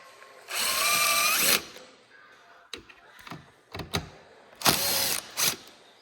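A power drill removes screws from a Ski-Doo Gen 5 turbo snowmobile, with a long whirring run followed by shorter bursts, clicks and handling noises, close and loud.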